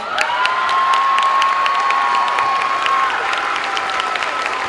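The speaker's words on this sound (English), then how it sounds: "A big round of applause" A school pep rally crowd in a gym claps and cheers loudly and continuously, with whistles and children's shouts ringing over the dense, sustained applause.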